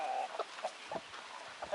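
Rooster and hens in a backyard coop giving short, soft clucks, several brief calls scattered across a moment at moderate distance.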